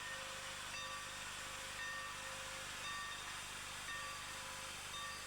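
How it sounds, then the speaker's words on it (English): A steam locomotive on a UK railway gets under way, giving a loud, steady roar of hissing steam that fills the whole span, with faint thin whistle-like tones running through it and no pauses. "the engineer skillfully unleashes the steam power from inside the boiler"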